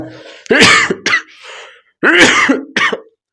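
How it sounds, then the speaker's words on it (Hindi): Several harsh coughs in two clusters, close and loud, separated by brief pauses. "थोड़ा खांसी है तो थोड़ा डिस्टर्बेंस हो, उसके लिए सॉरी"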